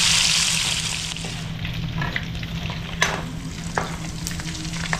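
Pork sizzling and frying in a pan of oil until golden brown, a steady close hiss with a few sharper crackles and pops, no talk.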